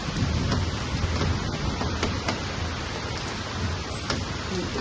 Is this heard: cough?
no